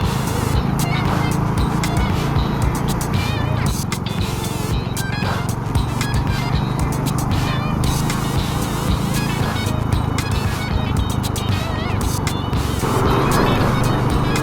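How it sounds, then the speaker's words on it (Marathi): Road traffic surrounds a motorbike ride out of Thane, with car and motorcycle engines rumbling and passing close by in a steady loud wash and faint talk underneath. "तरी पण गाड्या आहेत रोडवरती, भरपूर ट्रॉफिक आहे."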